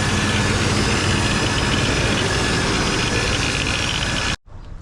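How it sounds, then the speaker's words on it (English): A 1989 GMC Sierra pickup's engine idles high with a steady, loud, close drone and slight vibration, cutting off abruptly near the end. "Seems like she idle kind of high."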